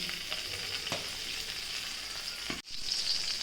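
Fox nuts (makhana) frying in oil and butter with green chili, a steady close crackling sizzle with a few stirring scrapes and a brief dropout near the end.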